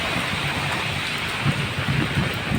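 A downpour drums hard and without pause on surfaces in a flooded area, a thick broadband wash of rain with deeper rumbling swells near the end.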